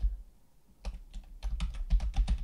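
Close, clear typing on a computer keyboard while editing an Excel pivot table, with a quiet start followed by a brisk run of individual keystrokes and no voice.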